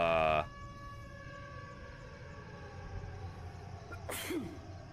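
A single sharp sneeze bursts out near the end, following a faint musical tone at the start and quiet room ambience, with no talk.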